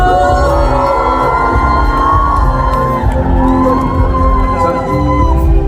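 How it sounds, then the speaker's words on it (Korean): Loud concert crowd at a Seoul evening show cheering, whooping and screaming continuously, dense and close, with music-like tones blending underneath throughout. "여러분, 함성 소리 질러!"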